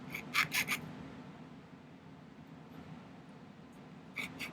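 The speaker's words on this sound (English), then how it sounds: "I'm just using a half-round jeweler's file here." A half-round jeweler's file rasps on metal while pick soldering ring projects, giving a few quick scraping strokes at the start and again near the end, soft and close, with a quiet gap between.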